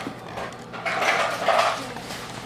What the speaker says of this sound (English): add your dry ingredients to your wet ingredients by gently whisking them in